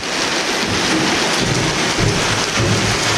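Steady heavy rain pours down on a bahay kubo building site in a constant dense hiss, with low rumbles of thunder rolling underneath; no voices.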